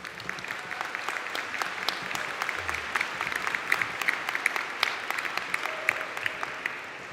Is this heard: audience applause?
yes